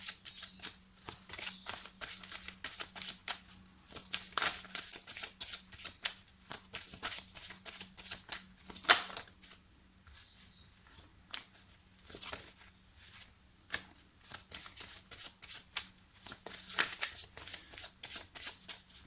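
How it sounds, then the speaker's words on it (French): Petit Lenormand cards are shuffled by hand for a fortune-telling reading: close, crisp riffling and flicking in quick bursts with short pauses between them, fairly soft overall. "Alors, Poupie, je vais me concentrer sur votre demande pendant que je prépare votre tirage."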